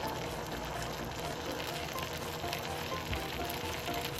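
Just Egg cooking in a small mini pan with a little leftover grease gives a soft, steady sizzle that stays faint and even throughout, with no voices.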